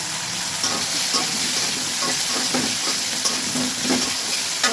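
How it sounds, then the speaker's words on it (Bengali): Flat beans frying in oil in a pan while being cooked for a fish curry with winter vegetables: a steady close sizzle broken by repeated scraping stirs, with no voices. "দেখুন সিমগুলো ভাজা হয়ে এসছে, আর একটুখানি ভেজে নামিয়ে দেবো"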